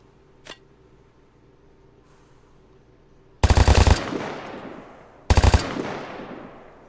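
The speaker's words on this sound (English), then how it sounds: "He's shooting at me." Gunfire in the online survival shooter Vigor: a faint early crack, then two loud, close shots or short bursts a couple of seconds apart, each trailing off in a long echoing decay.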